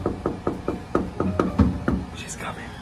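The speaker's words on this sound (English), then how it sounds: "I'm gonna be knocking on the door until she answers." Knocking on a front door: about nine firm, evenly spaced raps close by over roughly two seconds, then a faint, muffled voice from behind the door.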